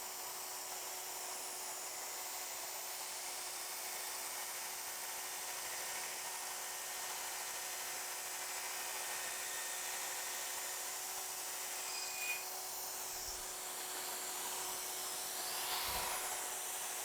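Drill boring a hole in wood with a depth stop set, a steady droning whir running throughout at moderate level with a few small knocks near the end, no voices.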